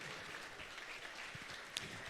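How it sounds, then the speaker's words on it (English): Faint, steady clapping from an audience at an educational equity leadership summit, a dense, even patter of many hands held at a low level for the whole stretch, with no voices rising above it. "Keep that round of applause coming."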